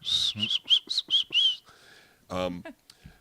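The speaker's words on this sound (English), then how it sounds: "There goes my whistle." A series of short, high whistled notes in a quick rhythm, followed by a brief burst of voice and a few faint clicks.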